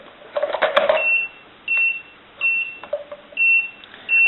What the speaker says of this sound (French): il me l'indique par un bip sonore